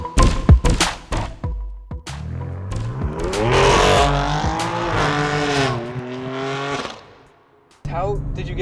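Race car taking hot laps at Hampton Downs: a loud close engine revs up and holds a high strained roar, with sharp bursts, shifts and a brief drop near the end, mixed with cabin noise and voices talking.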